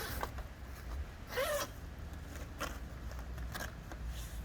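A zipper runs in short, quiet pulls as a soft cab enclosure panel is zipped back onto a 2021 Yamaha Wolverine RMAX4 side-by-side, several brief rasps spread over a few seconds with no speech.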